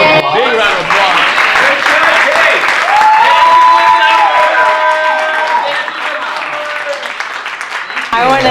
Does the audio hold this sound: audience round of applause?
yes